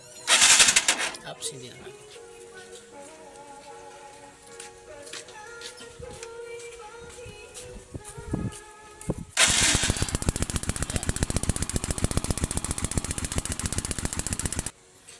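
A motorcycle engine is started and run on its stock ignition coil, giving a loud, rapid, steady mechanical clatter for several seconds after some earlier clicks and handling noises, with a brief spoken remark.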